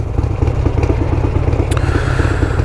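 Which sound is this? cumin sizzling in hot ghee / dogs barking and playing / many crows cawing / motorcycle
motorcycle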